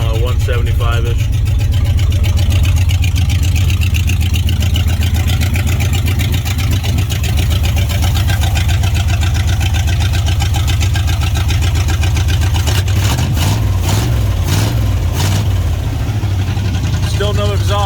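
A 1986 Ram truck engine idles with a new carburetor and intake and no exhaust fitted, a loud steady rumbling drone throughout, close up, with someone talking over it and some revving near the end.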